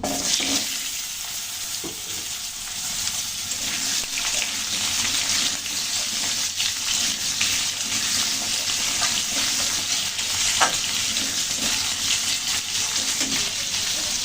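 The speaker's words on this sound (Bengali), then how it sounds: "বন্ধুরা দেখুন আমার কত জায়গা তেল ফুটে চলে আসছে" Hot oil spatters and sizzles steadily around potatoes frying in a pan, with occasional stirring clinks, a constant close hiss under faint background voices.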